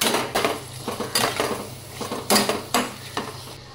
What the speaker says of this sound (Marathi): या मसाल्यांमध्ये ही कोळंबी आणि बटाटा एकत्र करून घ्यायचं चांगला